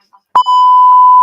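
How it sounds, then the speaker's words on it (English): A steady censor beep tone rings out loud and alone, starting with a short burst and then holding as a long continuous bleep after a brief break. "I'll make sure I have the beep button here"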